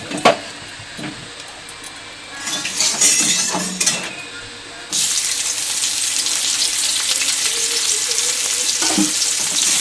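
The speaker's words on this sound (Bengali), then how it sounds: "তেলটাকে গরম হয়ে গেছে, এর মধ্যে পেঁয়াজ দিয়ে দেবো।" Onions dropped into hot oil in a wok, starting with a few clinks and scrapes, then a sharp surge into a loud, continuous close-up sizzle that holds steady, with faint knocks of stirring.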